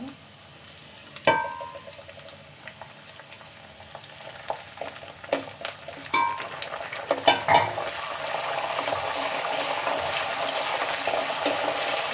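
Chana dal, urad dal and curry leaves sizzle and crackle in hot oil for a tempering, with scattered pops and stirring clinks that build into a steady frying hiss, close by and moderately loud.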